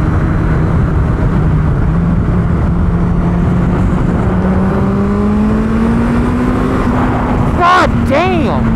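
A 300 HP turbocharged Suzuki Hayabusa motorcycle accelerates hard with a loud, rising engine whine and heavy wind roar, close and continuous, as a rider's voice breaks in briefly near the end.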